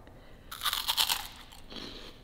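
Freeze-dried sweets crunch loudly between the teeth, a burst of crisp, close bites followed by softer chewing that fades after about a second.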